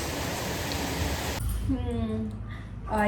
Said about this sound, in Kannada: ಇವಾಗ ಮಳೆನೂ ಬರ್ತಾ ಇದೆ, ಚೆನ್ನಾಗೇ ಬರ್ತಾ ಇದೆ